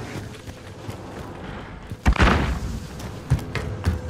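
A grenade explodes in Call of Duty: Modern Warfare as one muffled thud and boom midway through, with a smaller thump after it, over quiet rumbling game ambience.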